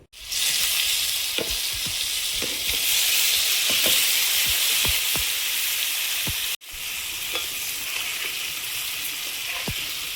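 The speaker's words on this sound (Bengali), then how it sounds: "কড়াইতে তেল দিয়ে দিচ্ছি, পনির ভেজে নেব।" Steady, loud sizzling of paneer frying in hot oil in a wok, with occasional clinks and scrapes of stirring.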